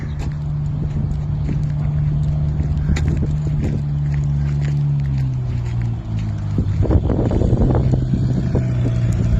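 A repaired car drives under its own power with a coat hanger holding up its main bearing. The engine gives a loud, steady drone that shifts and roughens toward the end, with wind noise and no speech.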